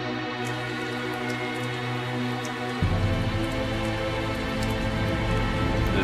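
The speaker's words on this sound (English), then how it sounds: "That's what's causing the perpetual rain." Perpetual rain in the video game Tales of Zestiria, a steady hiss of falling rain under tonal game music that shifts to a fuller, louder passage about halfway through.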